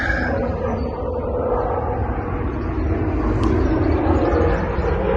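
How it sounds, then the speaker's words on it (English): A plane passes over an allotment in Devon about five miles from Exeter Airport, a steady broad engine roar that holds for several seconds at a constant loud level, with no talking. "Plane going over."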